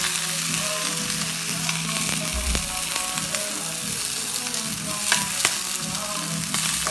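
Food sizzles steadily in a Norland frying pan with no oil, a continuous bright crackle and hiss with a few sharper pops and occasional stirring scrapes, close and loud with no talking.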